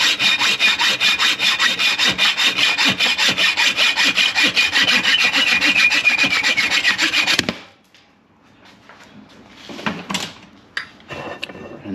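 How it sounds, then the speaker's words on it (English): Hand hacksaw cutting through a bolt clamped in a vise, with steady rapid back-and-forth rasping strokes, loud and close, stopping abruptly and followed by a few faint handling clicks. "then just take a simple hacksaw or sawzall"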